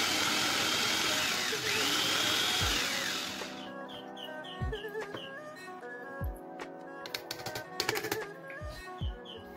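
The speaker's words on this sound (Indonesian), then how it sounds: "aku haluskan dengan menggunakan food chopper secara berbarengan" Small electric food chopper whirring loudly as it blends tofu, egg, flour and spices, then cutting off and giving way to scattered taps and clatter of the bowl and lid.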